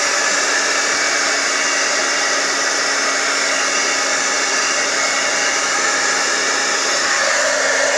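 A hair dryer blowing steadily to dry a freshly applied paint wash, a loud, constant close-up whoosh that holds unchanged throughout with no talking.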